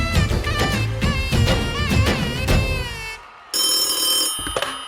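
A telephone rings during a staged skit in a televised dance-show performance. Bright, steady ringing tones come in near the end, after a passage of loud, wavering musical sound.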